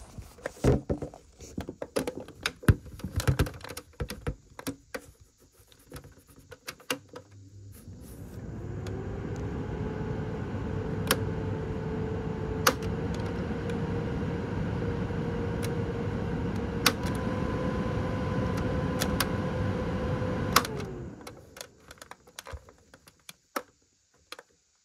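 A 2015 Sainsbury's 30-inch tower fan starts up after a few clicks and handling knocks, its motor hum rising into a steady, close whirring airflow drone that holds for about twelve seconds before switching off and winding down.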